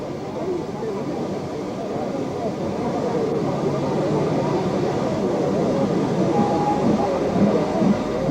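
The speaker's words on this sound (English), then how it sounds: "giving two views of the train arriving" A 1958 train pulling into a station on the Kent & East Sussex Railway gives a steady, continuous rumble of wheels and rolling stock throughout, with voices faintly underneath.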